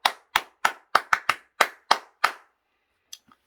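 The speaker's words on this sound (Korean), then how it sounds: "우리 주님께 영광의 박수." Crisp hand claps during a Korean dawn church worship service. Close, loud and isolated, there are about nine sharp claps in a fairly steady rhythm, then quiet with a couple of faint taps.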